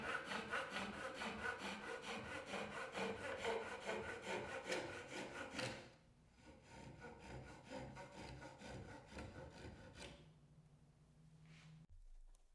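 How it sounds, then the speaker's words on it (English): A hand saw cuts through cedar wood to length in steady, rapid back-and-forth strokes, loud and close, slowing and thinning after about six seconds before the final strokes finish the cut. "I clamp the cedar into its final position, mark where it intersects the arms, and take my time cutting to these lines."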